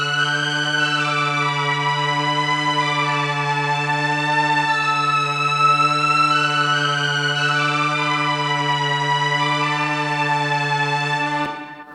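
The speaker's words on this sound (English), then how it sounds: "I did recreate the sound on this fake Solina" A fake Solina string synth holds one sustained, buzzy chord with strong wobble and heavy reverb, steady and loud for about eleven seconds before cutting off abruptly.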